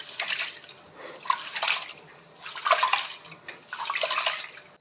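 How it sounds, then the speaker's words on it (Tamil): Raw rice is washed by hand in water, with four bursts of splashing and swishing separated by short pauses, heard close and with no talk. "இந்த அரிசியை நன்றாக 2-3 முறை கழுவி 3 மணி நேரம் ஊற வைக்க வேண்டும்."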